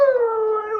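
A small dog lets out one short, steady, whining howl that holds a clear tone and slowly drops in pitch, close and unaccompanied by talk.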